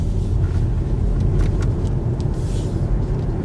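A 2020 Kia e-Niro electric car drives along a road, giving a steady, loud low rumble of tyres and road noise throughout, with no voices.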